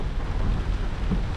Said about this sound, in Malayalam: വെളിയിൽ നല്ല മഴയും ഉണ്ട്.